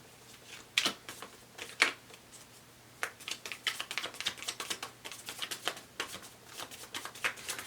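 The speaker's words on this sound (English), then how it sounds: "Give the cards a really good shuffle." Tarot cards being shuffled up close, a few quick riffles and then a longer run of crisp, rapid flutters, with no one talking.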